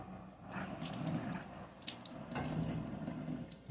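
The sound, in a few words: rinsing a container under tap water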